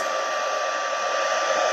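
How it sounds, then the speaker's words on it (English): Handheld heat tool melting white or clear embossing powder on a Christmas card, a steady loud blowing whir like a hair dryer running continuously up close. "So I'm going to use my heat tool"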